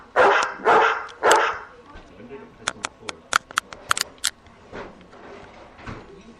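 A dog barks three times in quick succession, loud and close, followed by a run of sharp clicking and tapping sounds and a quieter, rustling stretch.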